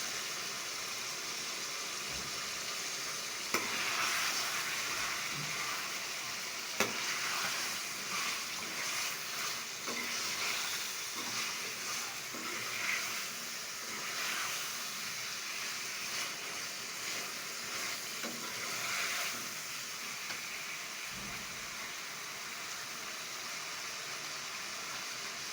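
Chicken pieces fry in a pot of spiced masala for biryani, giving a steady, quiet sizzling hiss with a few small pops and clatters throughout.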